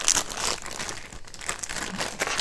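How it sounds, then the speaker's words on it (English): A plastic bag holding a diamond art canvas crinkles and rustles steadily in continuous close, crisp handling noise. "the canvas always comes in a plastic bag,"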